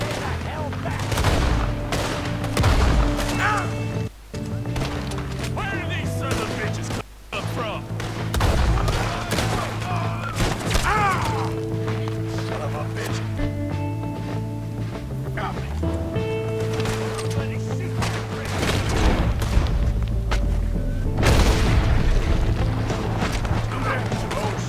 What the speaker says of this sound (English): We're gonna have to shoot our way up there!